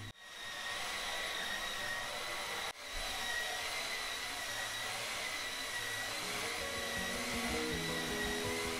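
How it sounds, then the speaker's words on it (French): A vacuum cleaner runs over a mattress with a steady, whining motor drone after a quick start-up, briefly dropping out and resuming, constant and close throughout with no talk. "Cela faisait un moment que je n'avais pas pris le temps d'aspirer mon matelas."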